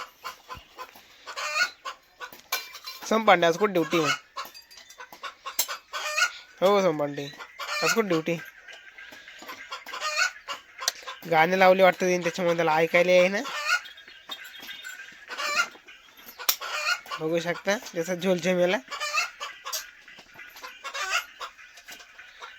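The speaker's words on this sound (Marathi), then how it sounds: "तिकडे कोंबडीचं काय आगाड चालू आहे" Hens on a farm break into a loud clucking commotion, several squawky bursts rising and falling over about twenty seconds, fairly close, with someone talking over and between the calls and background clatter.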